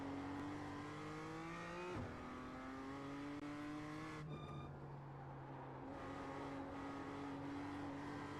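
A BMW M2 race car in iRacing drones steadily through its gears, the engine pitch climbing and dropping with shifts and a short lift, heard up close and fairly quiet with no voices.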